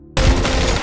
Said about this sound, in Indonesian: hingga terjadilah tembak-tembakan di sana